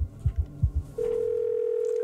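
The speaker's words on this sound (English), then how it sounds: "we're getting a phone call" An incoming phone call in the horror game Evil Inside: a few dull low thumps give way to a steady, continuous electronic phone tone that holds to the end.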